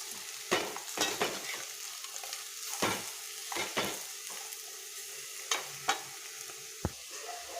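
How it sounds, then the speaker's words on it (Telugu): Bitter gourd pieces are stirred with jaggery in a pan, giving a soft background sizzle with about a dozen sharp scrapes and knocks of the spoon against the metal at an irregular pace. "ఇది మొత్తం కలిసేలాగా మనం బెల్లం మొత్తం ఈ ముక్కలకి కలిసిపోయేలాగా"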